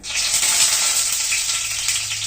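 Whole spices hit hot oil in a pan for Kabuli chana masala, giving a loud, bright, continuous sizzle and crackle up close with no voices.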